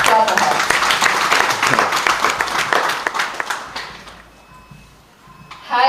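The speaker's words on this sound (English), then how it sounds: "Yes, clap for her." A crowd at a Women's Day event in Banjul claps and applauds loudly for a few seconds, the clapping thinning and fading out before a brief burst of sound at the end.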